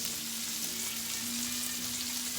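Smoked sausage browns in a pan for jambalaya, a continuous dense frying sizzle with a faint low hum beneath, steady and close with no talking.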